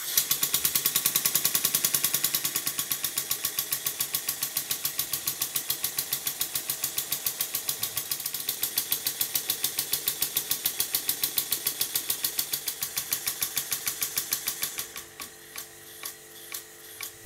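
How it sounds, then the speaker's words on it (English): A small Stuart model steam engine chuffs in a fast, steady rhythm, each beat sharp and even, then slows to a few spaced puffs near the end. "The engine runs fine now."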